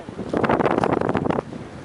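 Strong wind buffets the microphone in loud, rumbling gusts for a second or so, then eases to a lower roar, in cold weather in the Grampians National Park.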